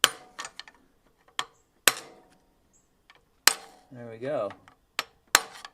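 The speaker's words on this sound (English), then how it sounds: "basically you're just going to pound the nut lefty-loosey off." A hammer drives a punch to knock loose a nut while a water pump is replaced on a 2003 Chevrolet Suburban, giving about eight sharp, close metallic strikes at uneven intervals, with a short spoken remark between blows.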